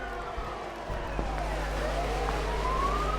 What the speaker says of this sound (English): I have a police car coming past me right at this time